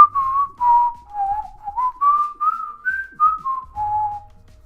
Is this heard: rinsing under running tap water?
no